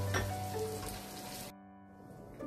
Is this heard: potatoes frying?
yes